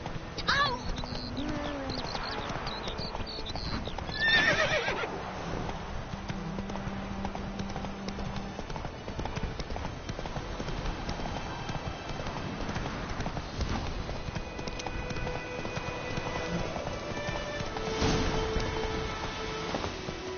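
Horse hooves clip-clop steadily at a trot in The Witcher 3 game world, with a brief whinny early on, under a continuous bed of ambient game sound and a snatch of voice.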